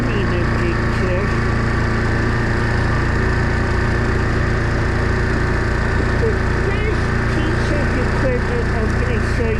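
A Kubota tractor fitted with a front loader idles in a steady, loud, close drone with a constant low rumble and mechanical rattle that never changes across the whole stretch.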